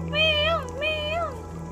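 A cat meows in the video game Stray, two drawn-out rising-and-falling meows one after the other, close and clear over a steady low game hum.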